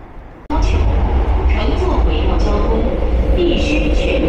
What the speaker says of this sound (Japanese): この地下鉄の10号線は 無人操縦ですね。